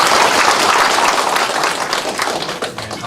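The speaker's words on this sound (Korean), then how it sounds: "그 면장님과 우리 직원들께도 수고한다고 박수를 한번 쳐주세요" An audience at a county town-hall gathering applauds the township chief and staff, loud and close, with dense, sustained clapping that tapers off slightly toward the end.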